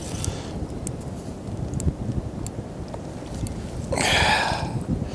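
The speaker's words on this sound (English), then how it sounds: "Wind's in our face now as well." Wind blowing across a carp fishing lake at Slough House in winter: steady low microphone buffeting and rustle throughout, with a brief brighter gust or splash-like burst near the end.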